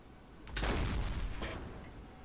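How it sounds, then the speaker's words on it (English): Two booming blasts in the submarine video game Silent Hunter IV, the first heavy and rumbling, the second shorter, like cannon fire with explosions, fairly faint and distant. "we started some explosions"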